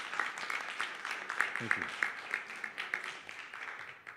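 Audience applause at the final of a sommelier competition, the ASI Best Sommelier of Asia & Oceania 2022, with steady clapping throughout under a host's brief spoken thanks.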